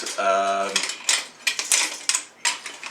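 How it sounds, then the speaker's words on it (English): Egg mixture being whisked in a bowl for a creamy coconut and banana tart, heard as a rapid series of bright clinking and scraping strokes after a brief tonal hum at the start. "whisk them around with my Mondo, my Mondo thingo. What do you call it? A whisk."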